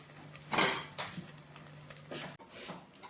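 Egg rice stirred in a pan, with one sharp utensil clatter against the metal early on, then a few faint scrapes in an otherwise quiet kitchen.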